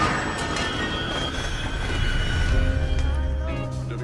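A train rolls past in a film scene, its wheels squealing high over a steady rumble of rail cars, with a heavier low rumble swelling near the end; no talk.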